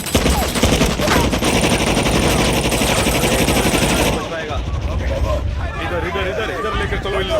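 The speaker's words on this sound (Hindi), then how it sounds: "मेरे कहने पर कवर फायर करो।" Loud, sustained machine gun cover fire in an action movie battle at an enemy base, dense rapid bursts for about four seconds, then scattered shots and commotion with shouting voices.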